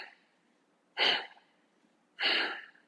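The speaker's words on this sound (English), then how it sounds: "push all the air out of your lungs through your nose with your lips closed" Two forceful nasal exhales with lips closed, a tai chi chih breathing exercise, each a sharp breathy puff about a second apart, close and fairly quiet against a still room.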